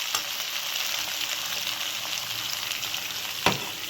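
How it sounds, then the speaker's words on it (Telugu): Green beans fry in ginger-garlic paste masala with a steady, dense sizzle, close and continuous, broken by a couple of faint stirring knocks, with no voices. "సో ఇది కూడా ఇలా పూర్తిగా ఆ అల్లం వెల్లుల్లి పేస్ట్ మసాలాలో కలుపుకోవాలి"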